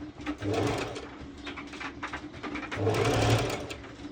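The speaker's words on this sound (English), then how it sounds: "then I go directly to my serger, and I will be serging it" Serger stitching stretchy swimsuit fabric, a rapid mechanical whirring that runs in close bursts with brief slowdowns, loud and without talking.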